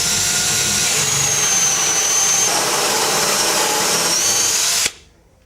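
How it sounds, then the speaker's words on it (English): Power drill boring one side of a crossbore hole through a door for a lock, a loud steady whirring drone held for about five seconds before cutting off abruptly. "now we'll drill our one side of our crossbore hole out."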